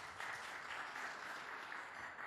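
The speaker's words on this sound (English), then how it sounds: "Applause, please." An audience at a startup panel event applauds, a steady dense wash of clapping lasting a couple of seconds with no speech over it.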